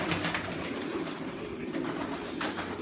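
Pigeons coo softly in a loft or cage area, low and continuous against a dense, steady background hum, with no voices.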